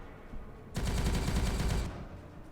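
A single sustained burst of rapid machine-gun fire from Warhammer 40k Regicide lasts about a second, loud and dense, rising out of a low background hum.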